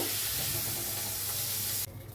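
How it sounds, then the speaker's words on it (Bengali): Prawn heads frying in hot oil give a loud, dense, continuous sizzle that cuts off abruptly near the end. "প্রথমে মাথাটা একটু ভেজে তুলে নিচ্ছি। চিংড়ি মাছ অল্প ভাজলেই হয়ে যাবে।"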